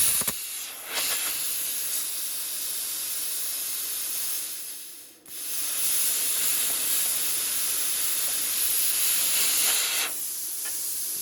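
A Lotos LT 3500 plasma cutter slices through a metal radiator mount, its loud, steady hiss roaring for about five seconds, cutting out briefly, then resuming for another long sustained burst, close up with no talking.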